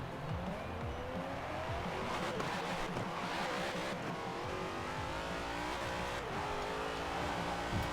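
A rear-wheel-drive Zenvo supercar driven in the racing game Forza Horizon 4, its engine droning and revving continuously through corners, with tire squeal and game music layered over the steady roar.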